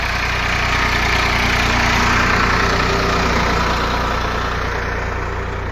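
A tractor engine idles steadily during field preparation for sowing chickpeas, a loud, continuous low rumble with a constant, even tone throughout and no voices.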